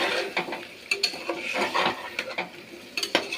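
A dish being stirred and sautéed in oil in a pan until the water cooks off, with repeated close scraping and clinking of a utensil against the pan over a faint sizzle.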